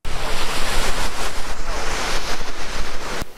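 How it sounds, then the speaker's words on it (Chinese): Sea waves rolling onto a sandy beach at Waimushan in Keelung, a loud, steady, close wash of surf with wind buffeting the microphone and no voices. "海浪轻轻拍打上沙滩，"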